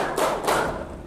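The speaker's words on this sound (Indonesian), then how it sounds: "Kalau aku bilang tepuk 3, berarti tepuknya 2 kali." A single sharp hand clap near 0.2 s and a second around 0.5 s, close and fairly loud, as children play a counting clapping game in a classroom.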